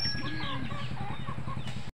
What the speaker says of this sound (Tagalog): mga alaga nating manok